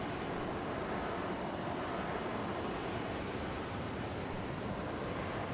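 A light aircraft flying the downwind leg of a landing pattern in a flight simulator game, its engine giving a steady, unbroken broadband drone at even loudness throughout, with no voices.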